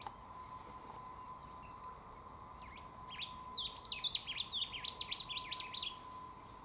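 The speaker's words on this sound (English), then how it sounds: "That's a king parrot" A king parrot calls from a gum tree, giving a quick run of thin, high chirps in the second half. The calls sound fairly distant and soft over a steady background hum.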